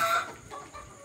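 A Fayoumi hen clucks on a poultry farm, a short, close burst of clucking against a quiet background.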